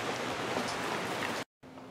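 Steady rain falls outside on a clear, green day, a dense, even patter that holds at a moderate level, cuts out briefly near the end, then returns.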